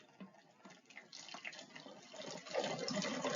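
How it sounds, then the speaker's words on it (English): Hydrogen peroxide at 3% strength is poured into a bottle, giving a soft, steady liquid trickle that grows fuller toward the end, faint and with no talk. "I'm going to pour about a half a cup, it doesn't need to be exact, into my bottle."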